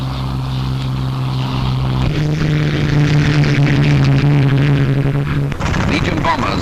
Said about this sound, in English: Mustangs flown by the Poles who fought in the Battle of Britain.